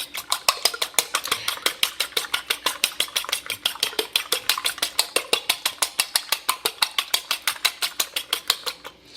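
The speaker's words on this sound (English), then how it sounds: "I use a fork, the old-fashioned way, to whisk it up" A fork whisks eggs in a bowl, making fast, even clicking taps in a steady rhythm that continues close and clear for several seconds with no talking.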